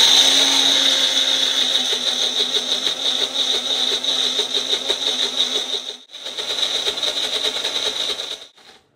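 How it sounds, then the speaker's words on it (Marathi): A mixer grinder whirs continuously as it grinds soaked grain into batter, a loud steady motor whine that cuts out briefly near the end and then resumes before stopping. "आणि 4 वाजता मी हे जे भिजत घातलेलं आहे ते वाटते मिक्सरला."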